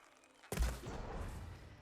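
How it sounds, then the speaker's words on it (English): A sharp shot bow fires in Horizon Forbidden West, a sudden heavy thump with a booming release that cuts in after near silence and then rings into a dense, sustained rumble of game ambience. "let's see what my sharp shot bow will do"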